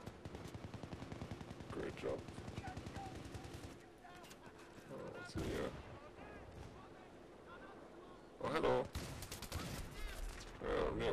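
Rapid gunfire bursts from the video game Battlefield 3, sniper and automatic weapons crackling loudly in sequence with brief pauses, explosive cracks near the end, under occasional talk from a player.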